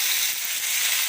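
Mustard seeds, urad dal, cut dried chillies and curry leaves sizzle loudly in hot oil, a dense steady crackling hiss close up with no talk.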